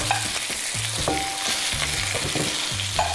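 Pieces of chicken with garlic fry and sizzle in a pan, with repeated stirring scrapes and clatters over a steady hiss, close and fairly loud, no talking.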